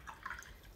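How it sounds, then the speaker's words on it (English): Water dropped onto a watercolor paint swatch on a dot card, a soft faint drip and splash lasting under a second, with quiet room tone around it. "Drop a bit of water."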